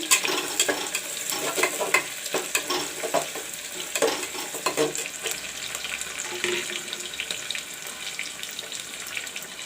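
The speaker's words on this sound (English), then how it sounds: "Let the onion turn brown." Chopped onion fries in a pan until brown for a chana dal, pumpkin, potato and soybean dish, a steady watery sizzle with frequent stirring clatter close by.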